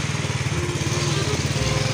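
A specially modified motorcycle engine runs with a rapid, even low thumping pulse, close and steady throughout the short stretch.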